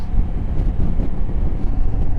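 A 2024 Honda Africa Twin DCT motorcycle engine running at higher revs, a loud, dense low rumble that holds steady throughout with slight pulsing and no speech.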